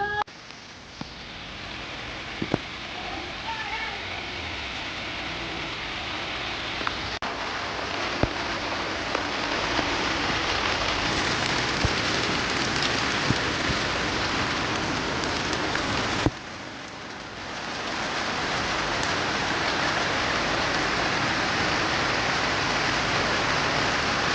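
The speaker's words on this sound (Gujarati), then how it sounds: "વરસાદ થોડી વાર આવી અને રોકાઈ ગયો છે" Steady rain falls outdoors after a long hot dry spell, a dense even patter on surfaces with occasional louder drips and knocks, briefly dipping before resuming at full strength.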